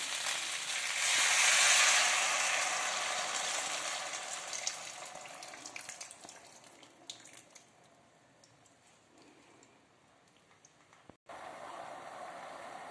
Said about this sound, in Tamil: இப்போ வந்து புளி தண்ணி ஊத்திடலாம்.